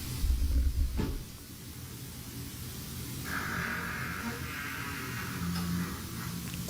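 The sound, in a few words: room door opening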